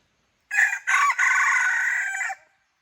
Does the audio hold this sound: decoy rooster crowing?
yes